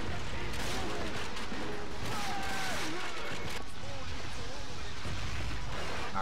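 Gunfire in the World War II shooter game Call of Duty Finest Hour, repeated rifle and machine-gun bursts with booms amid battle noise, someone talking over it.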